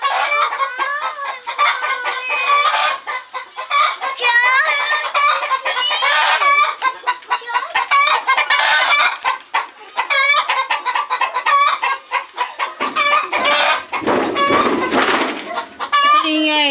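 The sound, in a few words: chickens clucking in a backyard farm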